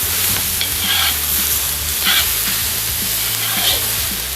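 Loud, steady sizzling of diced onions and carrots frying in a pot, with occasional soft stirring scrapes and no voices.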